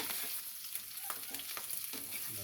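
Pork leg (pata) sautés in a pan with a steady close sizzle, broken by a series of short stirring scrapes and clatters throughout.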